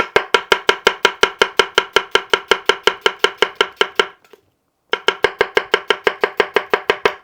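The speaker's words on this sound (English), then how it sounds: "For something like an onion or a cucumber that's decent size but not very firm, you can use the middle of the bunka." Rapid, even knife strokes of a sharp Japanese bunka knife slicing an onion or cucumber on a board, crisp close chops in a steady rhythm, a brief pause, then the chopping resumes.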